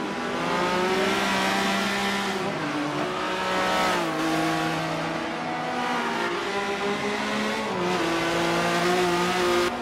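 Race cars roaring around Circuit de Catalunya in Barcelona in the racing game Forza 7, engines droning loud and steady with pitch rising and falling through gear shifts and turns, several cars overlapping.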